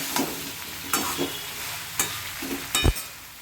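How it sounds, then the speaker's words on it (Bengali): Sliced ridge gourd and potatoes land in a hot pan of oil for a prawn curry, giving a close, soft sizzle broken by several sharp clatters of stirring against the pan. "এই ঝিঙেগুলো আমি এর মধ্যে দিয়ে দিচ্ছি। এই আলুগুলো এর মধ্যে দিয়ে দিচ্ছি।"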